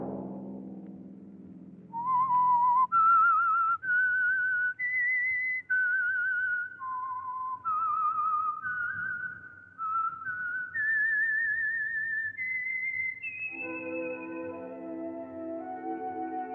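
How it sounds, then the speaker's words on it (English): A lone whistled melody, the signature theme signal of The Whistler radio drama, rises and steps through a clear tune for most of the span before a sustained orchestral chord takes over at the end. "Let that whistle be your signal for the Signal Oil program, The Whistler"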